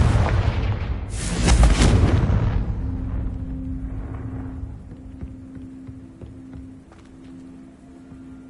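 A Confringo explosion spell blasts in Hogwarts Legacy, a loud booming burst that rumbles and fades into a lingering low hum, no voices.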